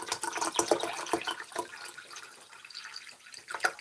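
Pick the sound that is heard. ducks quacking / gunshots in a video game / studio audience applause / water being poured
water being poured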